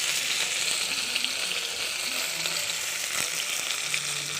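Tur fish curry fries in a pan with a constant bright hiss and crackle close up, steady in level, with a few faint stirring scrapes underneath and no voices.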